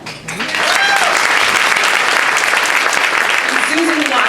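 Loud, sustained audience applause fills a women's awards ceremony honoring a college president, steady dense clapping from start to finish with a few voices cheering over it.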